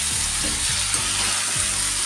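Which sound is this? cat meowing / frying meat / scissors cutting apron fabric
frying meat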